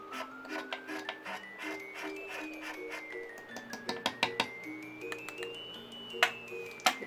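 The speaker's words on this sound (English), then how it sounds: "I get my little cutty knifey. Just scrape a bit off." Craft knife scraping a stick of chalk pastel: a run of short, dry rasping strokes, close and fairly quiet, with a few sharper scratches toward the end over faint background music.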